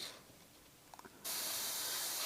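After a quiet moment with a few faint clicks, a steady airbrush spraying paint for a monochrome portrait hisses on abruptly and continues evenly, close and fairly loud.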